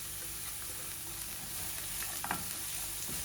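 Onions and cabbage stir-fry in a pan for kothu, a soft, low sizzle with a few brief scraping clicks from stirring partway through. No one talks.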